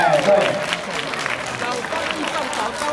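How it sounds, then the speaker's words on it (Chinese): Students clap at a school teacher-versus-student match, a faint scattered patter of applause under loud crowd chatter and an announcer's voice. "各位同学鼓掌一下"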